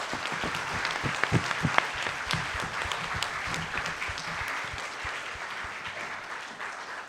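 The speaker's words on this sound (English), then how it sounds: "let's give a huge round of applause to our panelists" An audience at a mental health panel applauds the panelists, with a sustained burst of many hands clapping that stays dense and steady for several seconds before easing slightly at the end.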